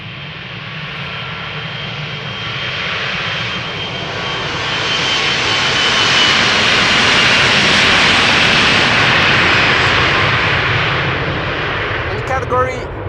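A KLM Embraer 175 airliner departs Amsterdam Schiphol in snowy weather, its jet engines roaring loud and broadband, swelling to a peak midway and then slowly easing off, with no voices heard.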